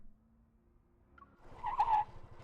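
A motorcycle in a racing video game brakes hard, a low engine hum giving way to a sudden, loud tire screech that peaks and holds for about half a second.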